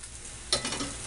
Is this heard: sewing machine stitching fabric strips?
no